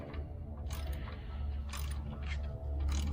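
Ratchet wrench clicking as it tightens a fastener on a go-kart engine during an engine swap, a close, loud run of quick metallic pawl clicks in short bursts.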